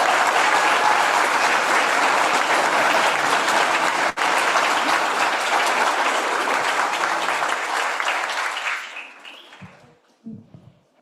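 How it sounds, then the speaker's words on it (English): Loud, sustained applause from a large audience at a church worship service that rolls on evenly for several seconds, then fades out, leaving a few faint sounds. "let's give them both a round of applause"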